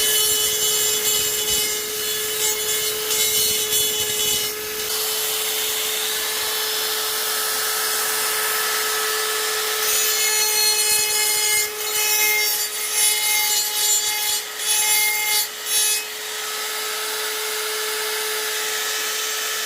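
Grinding down slightly proud welds on a 12v Cummins intake manifold for port matching to the head, a steady loud abrasive whine and rasp that runs continuously, dipping and surging in pressure toward the end.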